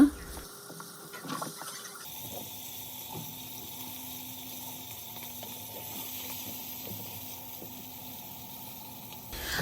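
Tilapia fish frying in a pan, Bangladeshi style, gives a soft, steady sizzle that begins after a brief rustle and carries on quietly without a break.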